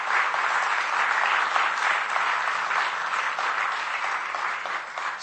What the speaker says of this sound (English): Please give a huge round of applause for our principal,